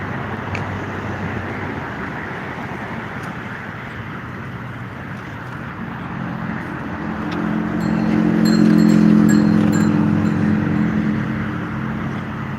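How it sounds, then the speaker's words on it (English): Steady street traffic in Manhattan, New York City, a continuous low roar of vehicles that swells louder for a few seconds in the middle, with higher clatter and hiss on top and no talking. "Traffic isn't that bad today."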